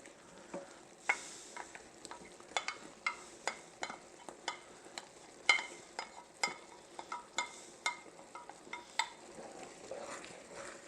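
A spoon stirring mushrooms back into stroganoff pasta in a pot, a steady run of close scraping, clinking strokes over a soft sizzle.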